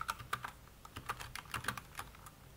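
Keys clatter on a computer keyboard in quick irregular bursts, close and fairly quiet, with no talking.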